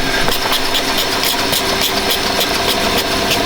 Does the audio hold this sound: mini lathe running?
yes